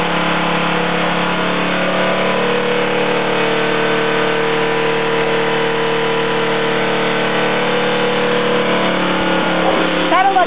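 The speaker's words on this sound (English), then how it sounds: "We're testing out an air pressurized turbocharger on an 8 horsepower Briggs and Stratton." An 8 horsepower Briggs and Stratton small engine fitted with an air-pressurized turbocharger runs at a steady, loud, constant drone throughout, with a brief change near the end and no clear talking over it.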